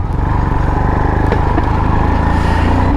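Royal Enfield Himalayan motorcycle at about 14,000 feet, its single-cylinder engine thumping loud and close in a steady rhythmic throb as it pulls away.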